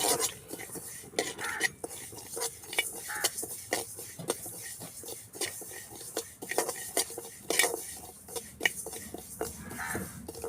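Rice flour being dry-roasted in a pan for laddu in a village kitchen, a spoon scraping and stirring against the metal with steady clinks and rasps, faint and continuous with no talking.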